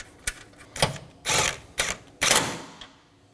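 A ratchet tightens 10mm mounting bolts for the AC line on a Dodge Durango 5.7L V8. Several quick, close clicking strokes come in an uneven rhythm and fade out at the end.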